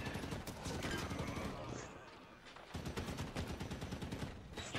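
Rapid automatic gunfire in the video game Halo 5: Guardians, a dense rattle of shots that fades briefly before resuming, fairly faint.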